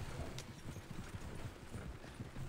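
Horse hooves clip-clop at a steady riding pace in the video game Red Dead Redemption 2, faint and continuous under a soft background wash.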